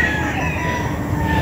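A rooster on a poultry farm raising stag and brood stag gamecocks crows against steady outdoor background noise, the call drawn out and fairly close, with a second faint crow overlapping.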